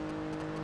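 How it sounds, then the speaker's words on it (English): A car engine runs steadily with a droning, harmonic hum during an online race, loud and continuous with no voices. "I think my audio chat is focusing more on the engine sounds than the voices"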